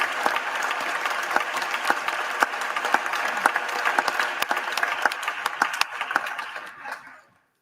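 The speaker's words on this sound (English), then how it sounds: "Oh, where are they clapping?" Steady applause fills the Senate chamber, many hands clapping continuously at a moderate distance before cutting off abruptly near the end.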